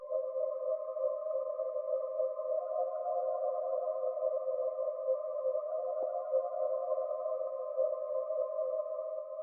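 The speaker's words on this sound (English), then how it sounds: "pull out this Polar Vortex bell pad" Omnisphere's Polar Vortex bell pad synth holds one soft, steady tone with a slightly wavering shimmer, alone and unbroken, with a tiny click midway and an abrupt cut at the end.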